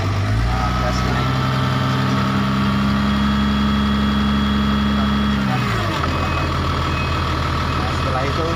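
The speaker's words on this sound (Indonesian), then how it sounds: "gas naik" The engine of a Case 2050M bulldozer runs loud and close with a deep, steady rumble that shifts in pitch and intensity about two-thirds of the way through as the throttle is raised.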